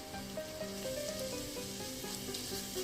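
Tempering spices such as curry leaves, asafoetida and roasted fenugreek powder sizzling in a pan for tomato pickle, a soft, even, continuous crackle with no voices.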